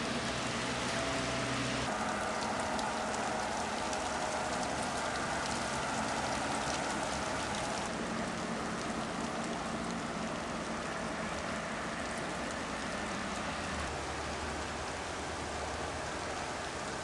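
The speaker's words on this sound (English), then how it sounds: "If we look in the tree, we can see the hailstones, quite big." Heavy hail and rain pour down outdoors near trees, a dense steady hiss of falling drops and stones that holds at a constant loudness throughout with no voices.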